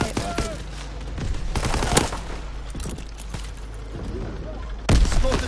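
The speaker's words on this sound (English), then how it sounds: "I saw that sniper shooting at me" Gunfire in a WWII video game battle, with sharp shots and bursts ringing out irregularly, one loud crack near the end, over a constant rumbling backdrop and a voice talking through it.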